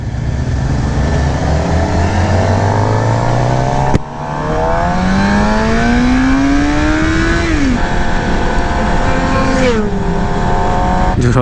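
A 2018 Suzuki GSX-R750 sport bike on a ride, its engine loud and close with a rising, falling rev, gear-change dips and a strong wind-rushing roar throughout.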